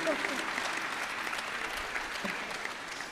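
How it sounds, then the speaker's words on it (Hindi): An audience claps loudly and continuously, a dense wash of applause filling the whole moment. "बंगालियों के लिए एक बार जोरदार ताली बजाओ"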